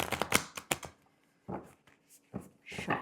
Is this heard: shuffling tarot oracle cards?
yes